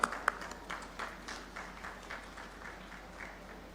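Audience applause greets two guests, a regional sales manager among them, as they are called onto the stage at a Zameen.com company event; scattered claps start sharply, then settle into a steady, fairly faint patter.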